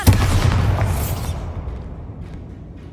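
A Bombarda explosion spell in the Hogwarts Legacy video game erupts with a loud, heavy boom and bright crackling burst at the start, then a long rumbling tail that slowly decays and thins out.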